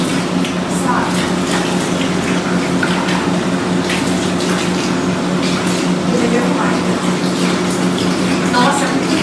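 Mineral water running steadily from a fountain in Parque das Águas in Caxambu, a continuous close splashing flow with a faint voice briefly underneath.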